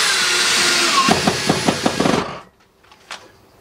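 A power screwdriver drives a screw into a wooden garden gate: a short buzzing whir with rapid rhythmic clicks near the end, then it stops and a faint knock follows.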